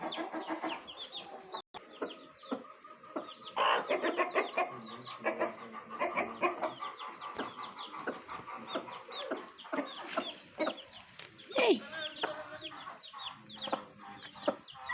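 Several chickens cluck and chatter continuously at close range, a busy mix of short calls overlapping throughout with occasional louder squawks.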